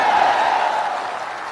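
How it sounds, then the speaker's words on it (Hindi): A crowd applauds steadily at a Jan Suraaj political rally in Bihar, the clapping loud and dense throughout and easing slightly toward the end. "अब बजाइए ताली।"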